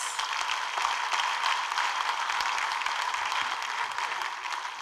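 A crowd gives a president another round of applause at a live-streamed event, a steady broadband wash of clapping holding even and moderately loud throughout, without any voices on top.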